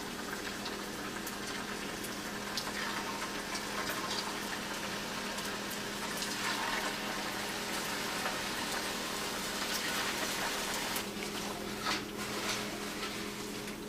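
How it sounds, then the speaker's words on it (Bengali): Flour fritters shaped like bean flowers fry slowly in hot oil in a frying pan, with a continuous, even sizzling hiss at moderate volume. "এখন আমি এগুলাকে তেলের মধ্যে দিয়ে দিব এবং খুবই আস্তে আস্তে এগুলাকে ভেজে উঠাবো"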